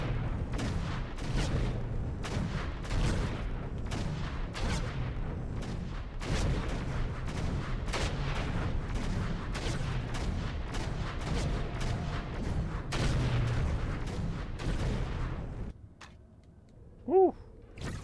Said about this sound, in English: I think the explosion hurts